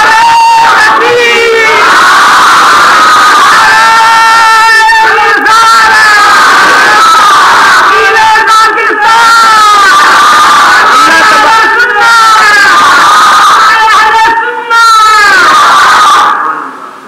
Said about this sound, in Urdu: نعرے کم لگائیں